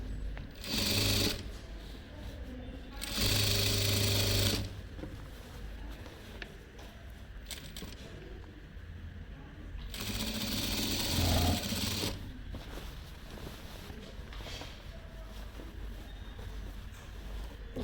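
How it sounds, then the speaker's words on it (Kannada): A sewing machine stitches the middle seam of a pair of pushpak-style pants, running in several bursts of steady, rapid whirring with short pauses between them; the machine is close and fairly loud. "ನೆಕ್ಸ್ಟು ಮಧ್ಯದಲ್ಲಿ ಒಂದು ಹೊಲಿಗೆನ ಹಾಕ್ಕೊಳ್ಬೇಕು"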